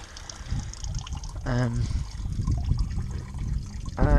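Coolant from a classic car engine with rusty coolant drains in a steady trickle and splash, with a person speaking briefly over the flow.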